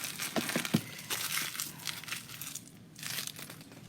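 Red canvas ribbon handled and crinkled close by, soft scattered rustles and crisp crinkling bursts, fairly quiet with brief pauses between movements.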